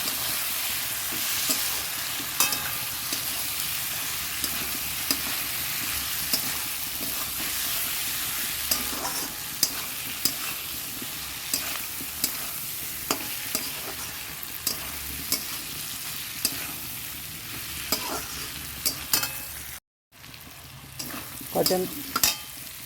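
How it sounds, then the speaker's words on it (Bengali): Fried prawns sizzle in a hot pan with chili, ginger paste, garlic paste and green chili paste, while a spatula scrapes and stirs in frequent sharp strokes; the frying continues steadily, with a brief silent gap near the end. "চিংড়ি ভাজাটা দিয়ে দিলাম এবার এর মধ্যে কষিয়ে নেব"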